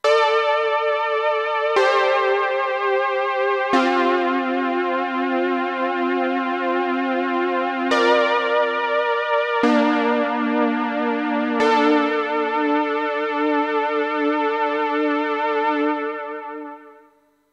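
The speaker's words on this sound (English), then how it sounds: "how to make a retro style keys sound in Serum that sounds like this" A retro analog-style keys patch built in the Serum synth plays a slow sequence of sustained, bright chords, each new chord struck cleanly and ringing on before a final fade to silence.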